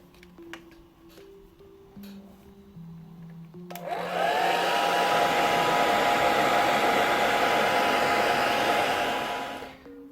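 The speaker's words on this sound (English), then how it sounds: "we can always use a hair dryer to help us with" A hair dryer blowing steadily on crackle paint on a miniature base, starting abruptly after a few seconds of quiet ticking and holding a loud, even whoosh before cutting off near the end.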